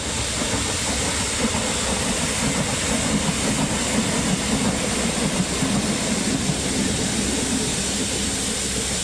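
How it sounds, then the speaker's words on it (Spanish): A modern Feve 940 locomotive passes in the rain beneath the old Ratia tram bridge, with a loud, continuous rumble and rail hiss holding steady from start to finish. "Bajo la lluvia, una moderna 940 cruza por debajo del antiguo puente del tranvía de Ratia"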